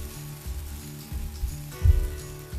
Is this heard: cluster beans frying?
yes